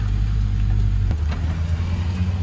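A car drives slowly through town streets while looking for a parking spot, its engine a loud, low, continuous rumble close by, briefly shifting in tone partway through, with no talking.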